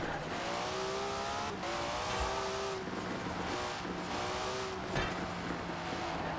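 A car in the Forza Horizon 4 racing game drives with a sustained engine drone, rising and falling as it shifts gears, with a few short tire squeals.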